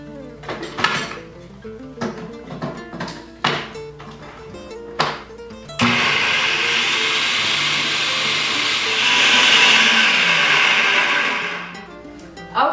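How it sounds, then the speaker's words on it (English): A blender runs on vegan basil and pine nut pesto. Several short clattering knocks come first as the sides are scraped down, and then a loud, continuous whirring grind takes over and swells slightly near the end. "So I'm just gonna scrape the sides and then blend it again."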